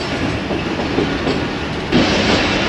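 Train rolling out of a station, heard from the last coach where the guard rides: a steady, loud broadband rumble of wheels and car noise with faint clickety-clack, swelling slightly louder toward the end, no voices.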